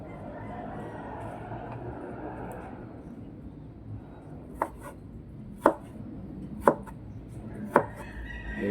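Old kitchen knives chopping food on a board, four sharp separate knocks spaced about a second apart, rising out of steady low background rumble after a stretch of muffled noise.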